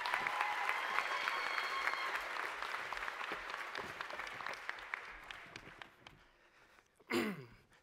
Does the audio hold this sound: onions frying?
no